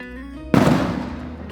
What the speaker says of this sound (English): Okay, that's the fireworks.